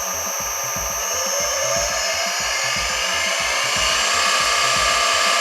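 A lathe's 2.2 kW electric motor runs on a new frequency inverter, giving a loud, steady mechanical hum with a high electric whine that rises slightly in pitch partway through. No one speaks.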